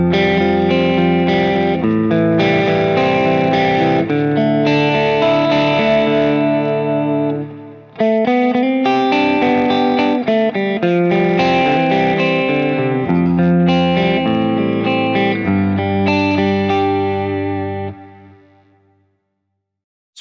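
A distorted electric guitar through a MESA/Boogie Mark IIC+ tube amplifier plays sustained chords and riffs with a thick, driven amp tone, pausing briefly midway before ringing out and fading at the end.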